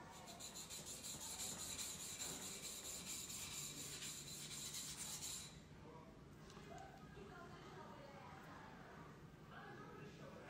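A Yamashine Funayuki white #1 135 mm ironclad knife is polished by hand: soft, rhythmic rubbing strokes repeat for about five seconds, then give way to quieter handling while someone talks.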